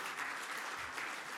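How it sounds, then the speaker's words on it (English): An audience at the Grand Bahama Technology Summit applauds Dietrich with a steady, dense wash of clapping that holds at an even level for the whole short stretch, with no voices. "Please just give a round of applause for Dietrich."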